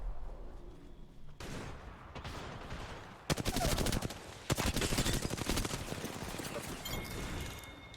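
Gunfire in the battle royale game Apex Legends during a duo match, dense rapid bursts that grow loud and continuous from the middle onward, with quieter scattered shots earlier and no speech.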